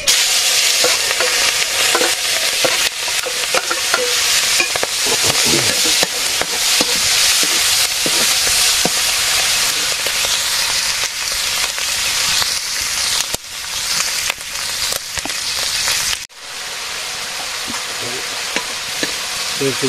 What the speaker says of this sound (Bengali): এখন শুটকি কটা ভাজি করি